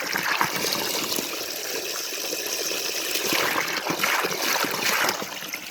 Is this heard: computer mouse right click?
no